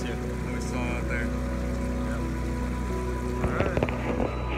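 A CraigCat E2 Elite II compact power boat engine drones steadily on the water, with splashing and faint voices heard under it toward the end.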